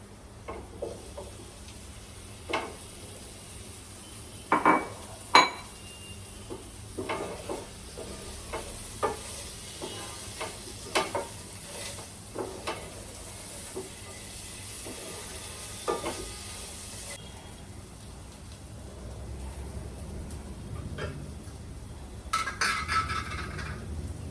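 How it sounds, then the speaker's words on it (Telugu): Prawns sizzle steadily in a hot pan for a shrimp pulav, with repeated clinks and scrapes of a spoon stirring through them, the frying hiss continuous underneath the intermittent close metallic stirring. "ఇప్పుడు దీంట్లో ఈ రొయ్యలు వేసుకుందాము."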